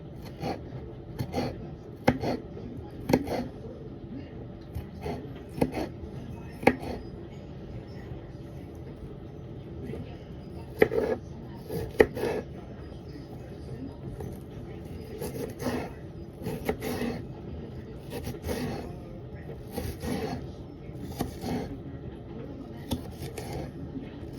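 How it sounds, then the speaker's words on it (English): Knife chopping red onion on a board for a salad: repeated sharp, close cutting strikes in uneven bursts, now quick runs and now single chops, under intermittent talking. "Got a little bit of red onion here. I'm just going to chop this up to put inside my salad."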